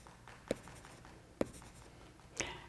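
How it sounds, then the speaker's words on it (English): A pencil makes marks on paper, with three distinct scratchy strokes spaced about a second apart over a soft continuous rustle of graphite, close and clear with no talking. "But this is what I mean when I talk about making marks."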